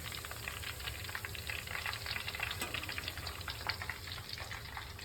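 Turnip pieces frying in hot oil for a Punjabi cauliflower, carrot and turnip pickle make a continuous bubbling sizzle with fast, uneven crackles and light stirring, close and steady, with no talk.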